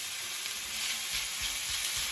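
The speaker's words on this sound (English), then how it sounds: "So now I'm going to add my mince to the pan." Minced meat dry frying with no oil in a pan alongside vegetables for samosas, a steady close sizzle with a few soft stirring scrapes and no talk.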